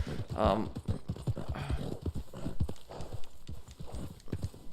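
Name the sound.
horse hooves clip-clopping in video game Red Dead Online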